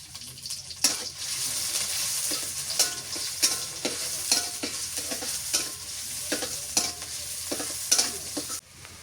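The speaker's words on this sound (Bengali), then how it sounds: "পেঁয়াজ মরিচ ভাজা হয়ে গেছে" Chopped onion and green chillies fry in a pan with a steady sizzle, broken by frequent scraping stirs of a utensil that come in an irregular rhythm, close and fairly loud.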